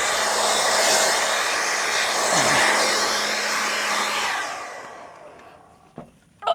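A loud, steady blower whirs continuously for several seconds at a campsite, then cuts off and fades, leaving a couple of faint knocks at the end.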